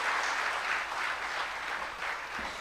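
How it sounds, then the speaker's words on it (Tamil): Audience applause at a motivational speech, a continuous wash of many hands clapping together, fairly even and moderately loud for a couple of seconds. "கைத்தட்டு குழந்தை கைத்தட்டுங்க"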